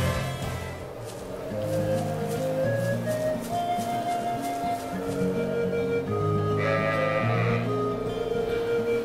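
Sheep bleating in the role-playing game Trails of Cold Steel, a few drawn-out bleats over steady game music with no talking.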